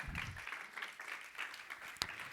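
A church congregation claps along during a sermon, a faint, steady wash of many hands with one sharper clap near the end.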